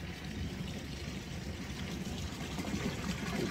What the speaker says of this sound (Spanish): aquí tenemos agua cayendo, el sonido del agua que cae, muy relajante.